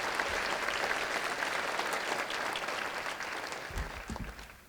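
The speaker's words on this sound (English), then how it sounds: "Another round of applause for our 7 finalists." Steady applause from a ceremony audience honoring finalists at a high school sports hall of fame induction, dense crowd clapping throughout that tapers slightly at the close, with a few low thumps near the end.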